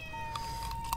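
A house cat gives a couple of short meows at a meal of whole fried chicken in spicy sambal goreng, thin and fairly faint over a steady low background hum.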